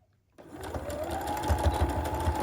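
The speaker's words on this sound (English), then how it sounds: "So we're gonna back stitch, and we're gonna do it again." A sewing machine starts up and back stitches through paper, setting a steady, close, rapid mechanical chatter with a whirring motor that keeps going to the end.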